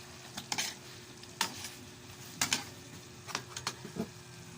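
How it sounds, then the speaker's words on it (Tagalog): Pineapple chunks go into a hot pan for sweetened pineapple chicken, giving a steady close sizzle broken by several sharp scraping stirs and clanks of a utensil against the pan, with no talking. "At ilalagay na natin ang pineapple shank."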